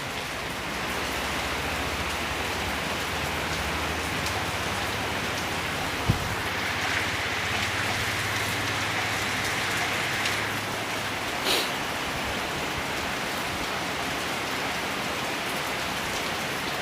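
Steady, heavy storm rain hisses continuously on surfaces in northeastern Thailand, a dense wash of drops with a low rumble underneath and no voices.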